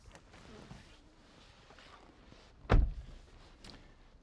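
A single solid door thunk from a 2012 Jaguar XF stands out near the end, preceded by faint handling noises in a quiet space.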